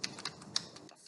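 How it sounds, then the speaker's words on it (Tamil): Light, close clicks of typing on a computer keyboard entering a Cisco router command, a handful of keystrokes in about a second, soft and without speech. "ஸ்மார்ட்டில் டைப் பண்ணிக்கிறேன்."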